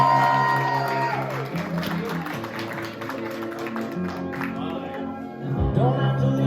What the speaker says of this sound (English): let's give them both one more big round of applause